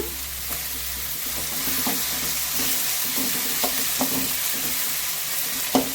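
Garlic and fennel seeds sauté in a pan with salt, sizzling steadily while a spoon scrapes and stirs in irregular clicks, close and alone without any talk.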